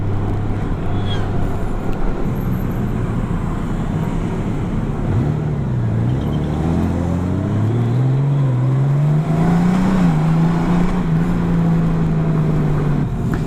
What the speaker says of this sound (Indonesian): kalau lu jalan turunan seperti ini atau ada turunan, lu nggak rem, udah kebantu banget dengan engine braking-nya